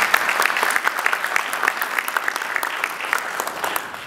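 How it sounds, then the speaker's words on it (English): Warm applause from an audience at a developer graduation ceremony in Ethiopia, close, crisp individual claps forming a lively steady patter that gradually thins toward the end. "Give them a really warm round of applause, please."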